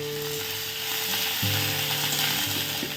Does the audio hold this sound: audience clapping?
no